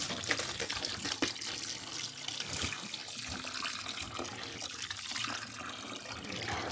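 Fresh water runs and splashes steadily from a tap or pour during a freezing winter storm in southern Kentucky, close and continuous without pause, with no talking.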